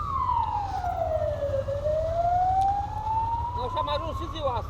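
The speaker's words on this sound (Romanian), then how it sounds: "Auzi acolo ambulanța." An ambulance siren passes along a street in Baia Mare, one long wailing tone falling then rising over steady traffic and engine rumble, loud and fairly close, with brief chirping sounds near the end.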